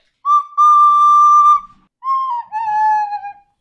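A recorder plays a few clear, breathy held notes, the second phrase dipping slightly in pitch, loud and close with short gaps between.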